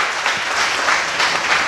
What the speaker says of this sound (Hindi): यहां तालियां चाहिए, यहां तालियां चाहिए